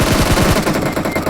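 Automatic gunfire from an M4 rifle in PUBG Mobile crackles in a rapid burst of loud, close shots that thin into scattered reports as it ends.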